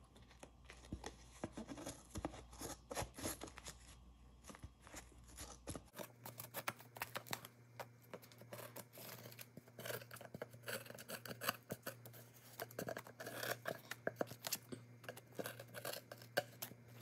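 Scissors trimming excess backing material from the front of a finished artwork, with a continuous run of close, crisp snips and rustling cuts throughout and no talking.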